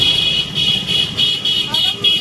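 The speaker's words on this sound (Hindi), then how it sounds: "गाड़ियों की आवाज़ गूंज रही कानों में।" Busy market street traffic near a clock tower, with repeated short car horn toots sounding in bursts over a steady roadway rumble, close and fairly loud.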